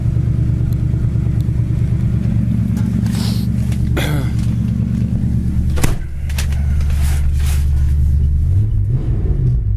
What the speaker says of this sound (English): The dual exhaust really sounds good on it